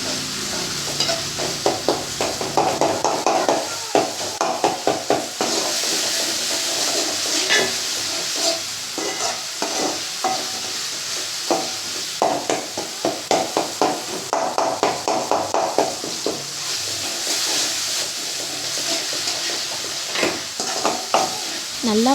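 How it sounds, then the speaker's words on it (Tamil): A spatula works tempered potato fry around a pan over a continuous sizzle, making rapid rhythmic scraping strokes that keep going from start to finish, loud and close, with no voices. "நல்லா கிளறி விட்டுட்டே இருங்க,"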